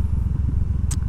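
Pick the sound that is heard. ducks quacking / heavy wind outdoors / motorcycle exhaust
motorcycle exhaust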